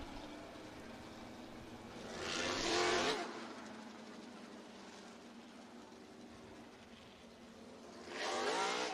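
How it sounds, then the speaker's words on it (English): Race cars at Southern Raceway in Milton, Florida, heard as two distant engine passes that swell briefly and fade against a quiet track background. "still working on getting cars rolling here for Schoenfeld Headers Heat Race number 3"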